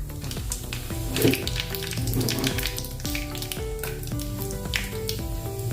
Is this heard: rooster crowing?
no